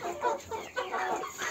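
Ameraucana chickens cluck softly and continuously nearby, a few overlapping murmuring calls from a small group of hens.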